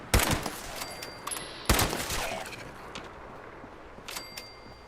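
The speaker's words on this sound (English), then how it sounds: "those gunshots really vibrate through the whole world" Gunfire in the video game Fallout 76: two sharp, loud shots about a second and a half apart, then a fainter burst near the end, each trailing off in echo over a quiet background.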